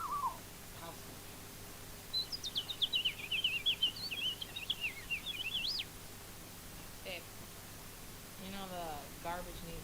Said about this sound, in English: House finch.